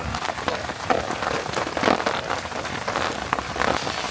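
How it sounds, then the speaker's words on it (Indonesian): Heavy rain pours at a forest campsite, with steady wind and patter on surfaces, as a dense, continuous wash of close rain noise without any voices. "angin kencang terus hujan juga"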